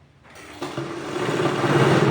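A sewing machine stitches a double-bed quilt made from an old saree, starting up after a short quiet moment and settling into a continuous, fairly loud motor whir close by.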